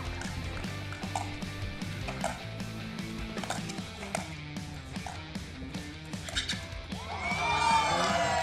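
Crowd cheering and shouting at a match, a lively mix of voices with some whoops that swells louder toward the end over a busy, music-like background.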